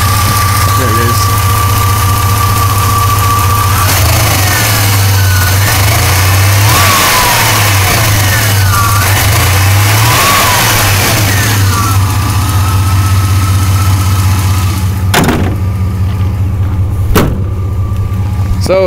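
A 1994 GMC Sierra 1500 pickup with a V6 idles loudly close by, then revs in several rising and falling surges as the throttle cable is worked by hand under the hood, with a couple of sharp knocks near the end.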